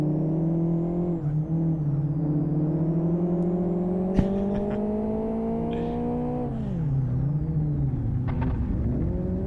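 A race car engine in the Live For Speed video game drones steadily as the car crosses from tarmac onto dirt, its pitch rising slowly, then dropping and climbing again, with a faint knock midway and no talk.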